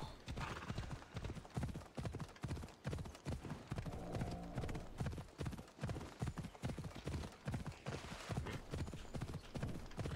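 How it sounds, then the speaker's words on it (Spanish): Horse hooves gallop in Assassin's Creed Odyssey, a fast, steady clip-clop rhythm that runs loud and close throughout, with a brief whinny-like cry partway through. "¿Dónde está mi caballito? Caballito estufa, ven aquí."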